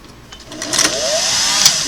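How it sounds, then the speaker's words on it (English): A Singer Model 404 sewing machine stitches through two layers of fabric, its motor whirring up into a steady, rising hum over less than two seconds, close and alone. "let's see if we can sew along this and jump up and do 2 layers of it"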